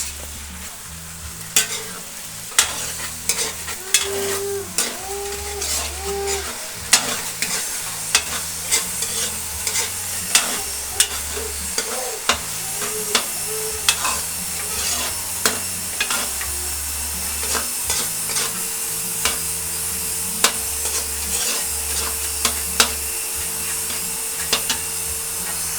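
Corned beef with garlic and onion stir-fried in a pan, with steady sizzling and sharp, repeated scraping and tapping of a spatula, close and loud, under a low humming background.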